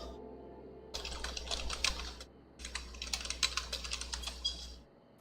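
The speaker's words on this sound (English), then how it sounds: "you can hear all the typing." Rapid clicking of keys on a computer keyboard in two bursts, close and crisp, with a brief pause between them and a low hum underneath.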